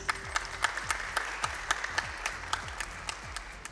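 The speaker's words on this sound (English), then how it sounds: "please give them a huge round of applause." An audience at a children's spelling competition grand finale applauds steadily, a dense wash of clapping with regular stronger beats, moderately loud and continuous with no talking.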